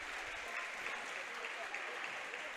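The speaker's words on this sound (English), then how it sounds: "It's a nice hand from the crowd." A crowd applauds steadily at a girls' high school basketball state tournament quarterfinal as an injured player walks off the court. The clapping is sustained and even for the whole stretch.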